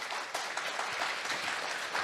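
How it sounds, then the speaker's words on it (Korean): An audience at a green finance conference applauds as panelists take the stage, a dense, even clapping that fills the short stretch without a break, with no one speaking over it. "여러분 큰 박수로 맞아주십시오."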